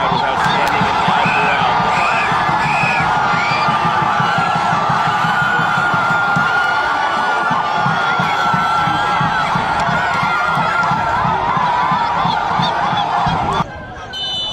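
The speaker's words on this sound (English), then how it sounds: "This Haitian crowd was outstanding and loud" A loud, packed Haitian football crowd roars steadily at a match, a dense wall of cheering and shouting that holds throughout before dropping off abruptly near the end.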